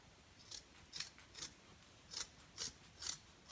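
Scissors trim fabric just outside a sewn seam for a tablet case, six or seven crisp separate snips at an even pace, close but quiet.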